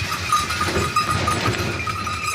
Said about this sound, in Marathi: बघू शकता मागं आता खूप मागं मेंढ्या राहिलेले आहेत